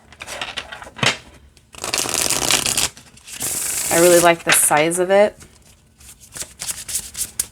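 Brisk papery riffling of oracle cards being overhand shuffled in several quick bursts, close up, alternating with a person talking.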